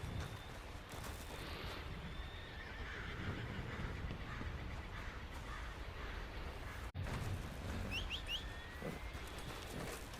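In the video game Red Dead Redemption 2, a horse whinnies amid steady outdoor ambience, with birds chirping briefly and faint hoof clops in the background.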